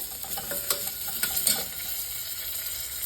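Spices temper in hot oil with a pinch of asafoetida for a vada pav filling, a faint steady sizzle with soft spluttering pops and an occasional light clink of a spoon against the pan, with no speech.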